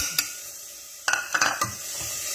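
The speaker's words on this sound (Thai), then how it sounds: "เดี๋ยวเราเอาพริกแกงลงไป คั่วก่อนนะคะ ไปคั่วหรือไปผัด" Thai curry paste dry-stirred in a pot with a utensil, a few brief scraping and sizzling bursts over a quiet kitchen background, no talk.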